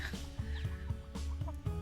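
Chickens in a backyard coop in cold weather give short, soft clucks in a quick irregular run, close by with no talk over them.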